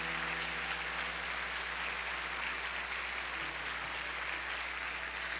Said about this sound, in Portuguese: Dá uma salva de palmas bem forte para Jesus.